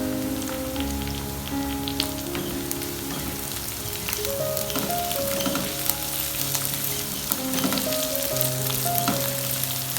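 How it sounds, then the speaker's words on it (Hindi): Green chillies frying with onion in hot oil, a dense continuous sizzle with crackling spatter over a low hum, fairly loud and close, without speech. "एक दो दफ़ा इसको ऐसे फ्राई करेंगे"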